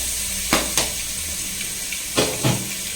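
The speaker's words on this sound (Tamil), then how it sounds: "பூண்டு ஃபர்ஸ்ட் நல்லா கொஞ்சம் எண்ணெயில் வந்து ரோஸ்ட் பண்ணிக்கலாம்." Crushed garlic frying in oil in a pan while tiffin sambar is made, a steady close sizzle with a few sharp crackles and pops rising above it, no talking.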